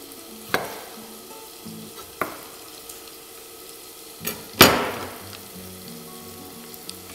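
Small pieces of meat fry in a pot for mushroom soup. A soft, steady sizzle runs throughout, with a few sharp clinks and scrapes of stirring and one louder splashy burst near the middle.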